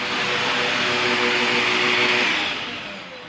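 Vacuum cleaner running steadily at close range with a loud whooshing roar, fading slightly near the end.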